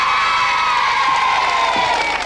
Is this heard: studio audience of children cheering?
yes